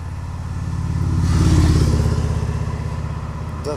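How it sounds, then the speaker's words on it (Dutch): A motorcycle passes on a road, its pulsing engine note rising to a loud close peak and then easing off as it moves on, heard alone without talk. "Dat was de motor."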